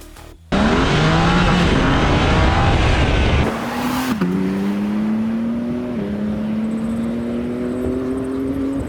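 A repaired, previously crashed BMW M3 Competition accelerates hard on its first test drive, its engine note climbing loud and close through several gear changes, with a whooshing rush of noise early on.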